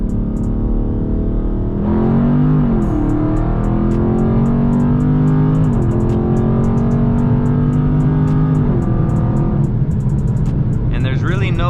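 A stock-mode Dodge Charger 392 Scat Pack accelerates hard from a 40 mph roll, its V8 rising loud and steady in pitch through several gear changes, heard from inside the car with intermittent ticking above.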